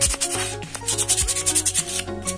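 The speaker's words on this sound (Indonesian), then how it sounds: "Kalau melihat kondisinya yang sudah mulus begini, sebenarnya cukup dihaluskan saja" Solid teak wood slingshot frame being sanded smooth by hand, a steady close scraping and rubbing with rhythmic strokes throughout, alone without talk.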